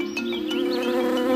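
Giant hornets attacking a honeybee hive, a dense, close insect buzz with layered droning wingbeats and wavering pitch throughout.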